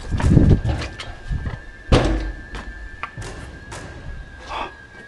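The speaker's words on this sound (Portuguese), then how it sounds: "A porta tá fechando sozinha, mano." A door in a horror video game, inside a farmhouse, swings shut on its own with a loud thud, followed by scattered softer knocks and creaks in a quiet room.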